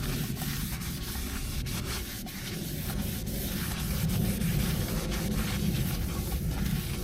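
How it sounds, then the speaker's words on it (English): Oil rubbed by hand around the inside of a Trangia 25 Duossal alcohol stove pan, a steady close scrubbing and wiping texture that continues without a break and carries no speech. "Then we're going to rub that all inside."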